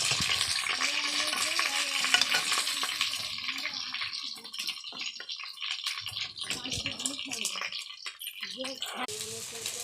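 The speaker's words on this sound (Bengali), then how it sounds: "ডিম ভাজা হচ্ছে" Fish roe mixed with onion, salt and chilli frying in a pan, a continuous close crackling sizzle with spatula scrapes and stirring, and a voice speaking over it at times.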